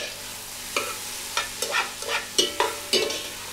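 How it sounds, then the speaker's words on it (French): Tomatoes being stirred in a pot for rougail boudin make a series of close, distinct scraping and sloshing strokes, about seven of them, over a soft sizzle. "On va poser les tomates, Ouais. bien tourner."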